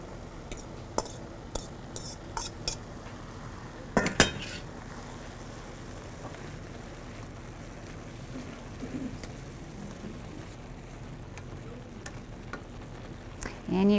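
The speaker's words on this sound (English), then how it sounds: "I'm going to go ahead and add the beans." Rinsed canned beans tipped into a pot of three-bean chili, with scattered clinks and clatters of a spoon and pot over a steady low kitchen hum, one sharper knock partway through.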